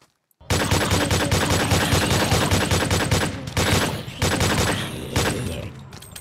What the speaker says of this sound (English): I like the P5K. I like how it shoots